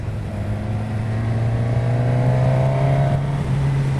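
A Suzuki Katana motorcycle engine drones steadily under load, its pitch rising slowly over a few seconds with a smooth, even tone, fairly loud and close with no talking.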